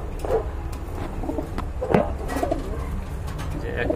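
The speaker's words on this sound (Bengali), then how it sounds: "আর এখানে কিন্তু দুই জাতের দুইটা কবুতর রয়েছে।" Two breeds of pigeons coo close by in a series of soft, throaty calls that rise and fall every second or so. Rustling and faint background noise sit underneath.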